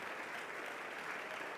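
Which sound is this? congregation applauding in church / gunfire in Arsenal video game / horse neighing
congregation applauding in church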